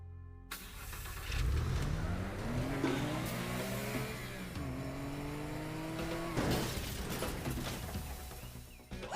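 A video game car engine starts, then revs up in rising, pitch-sweeping surges that hold at a loud, steady drone, followed by a sharp crashing burst near the end.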